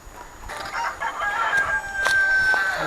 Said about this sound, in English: There's some roosters not happy with us out here.